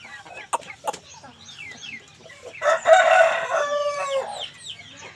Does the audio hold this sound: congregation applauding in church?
no